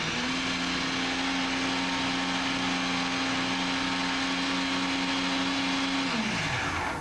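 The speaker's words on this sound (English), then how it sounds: "Just blenderize them till they're an even puree" A blender runs at its highest speed, pureeing frozen strawberries with a loud, steady whirring drone for about six seconds before the motor winds down and stops, with no talking.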